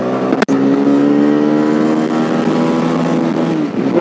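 A TVS Raider 125 motorcycle accelerating in second gear in power mode, its engine rising steadily in pitch for several seconds, loud and close, after a brief click at the start.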